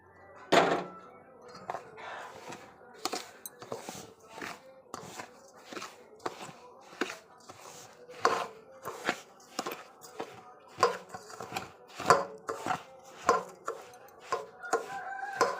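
A spoon stirs sugar syrup into a rava laddu mixture, giving a steady run of dull knocks and scrapes against the pan, roughly one stroke per second, close and fairly clear with no talking.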